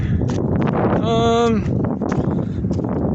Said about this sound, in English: It's still super windy